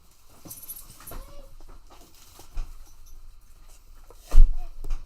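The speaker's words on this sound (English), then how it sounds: "Quit, you dumbass dogs." Dogs whimpering and panting indoors, soft whines and breathy pants running under the background, with a louder thump-like burst near the end.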